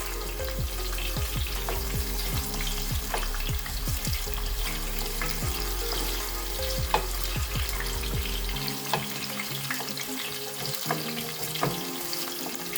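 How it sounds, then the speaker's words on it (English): Sliced onions drop into hot oil with garlic and fry in a steady, crackling sizzle. Occasional stirring clicks and pops sit over a faint tonal background. "Then I drop into the same oil and garlic my sliced onions."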